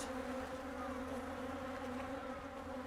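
Honeybees, nurse bees massed on a brood frame, buzz in a steady, dense hum, close and continuous with no voices.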